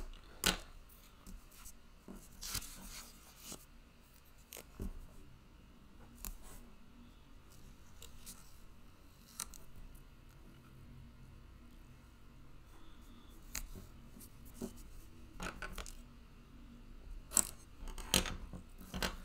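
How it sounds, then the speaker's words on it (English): Scissors cutting paper for a collage art assignment, a series of close, irregular snipping and slicing sounds with quiet pauses and faint paper handling in between, and no talking. "Scissors."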